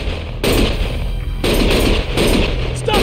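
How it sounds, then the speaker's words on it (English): Gunfire in a Lost Judgment cutscene, with rapid bursts of loud, close automatic shots in several volleys, separated by brief gaps, and no voices over them. "Stop shooting!"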